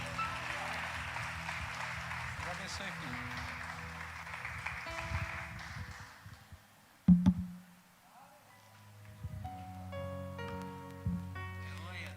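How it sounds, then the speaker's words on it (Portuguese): A church congregation applauding, a dense wash of clapping that fades out after several seconds, followed by a sharp knock and then organ-like sustained tones. "dá uma salva de palmas ao Senhor Jesus"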